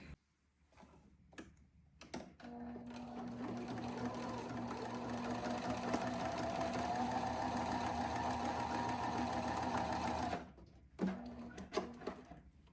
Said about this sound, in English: I go forward and back at the beginning of and end of every seam to strengthen the seam.